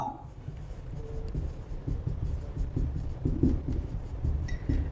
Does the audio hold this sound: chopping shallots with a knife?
no